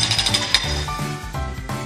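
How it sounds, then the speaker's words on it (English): A hydraulic breaker hammering up concrete for a new footpath: loud, rapid repeated impacts with metallic scraping and clinking, close and busy throughout. "The breaker scratches, scrapes, and hammers away."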